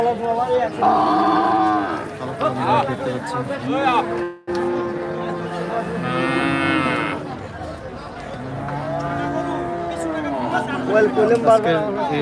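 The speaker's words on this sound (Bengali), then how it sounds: "বিশাল আকারের গরু এখানে" Large cattle at a busy cattle market in Chandpur moo loudly and repeatedly, several long calls from nearby animals with a brief break between them, over a steady murmur of crowd chatter.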